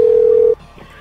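A steady telephone dial tone holds loud and alone for about half a second as a call is placed, then cuts off to quiet line noise.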